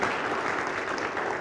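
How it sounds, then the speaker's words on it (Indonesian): A church congregation claps steadily and densely for the whole stretch, a loud, even wash of applause with no pauses. "Ya, boleh beri tepuk tangan saudara."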